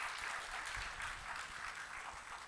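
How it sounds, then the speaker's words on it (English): Audience applause at an international mangrove sustainability conference, honoring a professor after his speech: a steady, dense wash of many hands clapping, moderately distant and even throughout, with no voices over it. "Can we have another round of applause for Professor Kandasamy for that amazing speech?"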